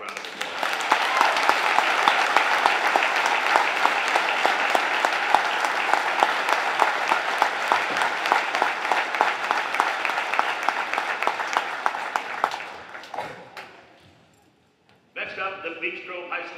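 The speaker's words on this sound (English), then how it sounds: "Let's give him and his family a round of applause." Ceremony audience applauding, a loud dense crowd clapping that holds steady for about twelve seconds, then fades out and stops, followed by a brief stretch of speech.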